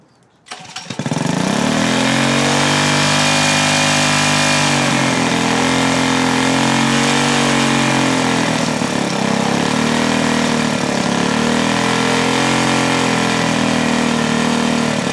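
An engine is started and then runs on a steady, loud idle with a strong low hum, holding constant for the full stretch after the start. It is shown at a technology conference as a demonstration with exhaust coming out the tailpipe.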